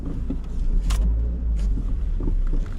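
A Suzuki Jimny on a mountain road, engine idling low as it eases backward, with a couple of brief clicks and rustles over the rumble.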